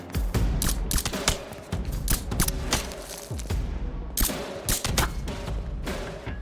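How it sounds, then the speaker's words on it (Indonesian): Rapid bursts of muffled, silenced gunfire in a film crackle in quick succession alongside thuds and impacts, loud and close, with brief pauses between volleys. "mereka melakukan tembak-tembakan dengan senyap"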